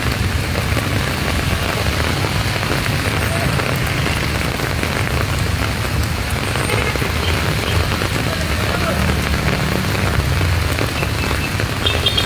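Heavy rain pours down in Pasig City, a steady, dense roar of drops on surfaces that stays loud and unbroken throughout, with no voices over it.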